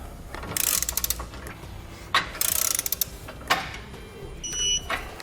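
Ratchet wrench clicking as bolts are tightened on a Roadmaster Direct-Connect tow base plate, short bursts of rapid clicks separated by pauses, close to the microphone.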